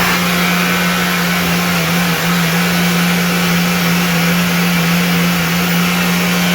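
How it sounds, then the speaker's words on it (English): A Flowbee vacuum haircutter motor labors while cutting hair, giving a loud, continuous droning whine with a steady pitch and a brief dip in the middle, close up with no talk. "We're getting a little bit of laboring on that motor now."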